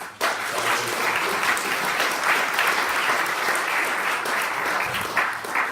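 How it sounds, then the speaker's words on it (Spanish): Loud, sustained applause from a symposium audience on transboundary waters honoring three speakers, a dense roar of many hands clapping that holds steady for several seconds. "quisiera pedir un nuevo aplauso"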